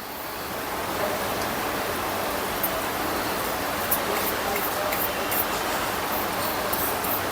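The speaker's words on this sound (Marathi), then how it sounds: "आता पाण्याला उकळी आलेली आहे" Water at a rolling boil in a pot on a gas stove, ready for modak dough; a steady, dense rushing hiss with faint bubbling, close and continuous, with no talk.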